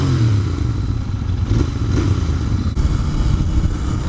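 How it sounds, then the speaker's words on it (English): A 2022 Royal Enfield Continental GT 650 motorcycle revs its exhaust, a loud, continuous low engine rumble with slight swells and no talking. "get a couple more exhaust revs in"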